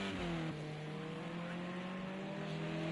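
Race cars lap Imola in a touring-car sim racing game, with a sustained, steady engine whine and higher harmonics from a car at speed, plus a brief gear change near the start.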